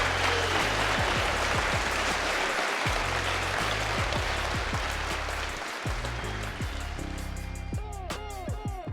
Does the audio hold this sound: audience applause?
yes